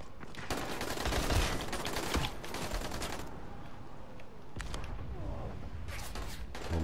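Gunfire in the zombie game Dying Light: The Following, a dense run of shots and bursts rattling through most of the stretch, loud and close, with brief lulls between volleys and no talk over it.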